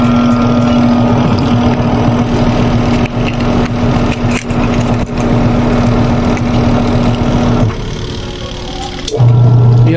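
A top-load washing machine converted to manual operation runs its spin cycle with a steady motor hum and whir at close range, then shifts pitch and drops off near the end.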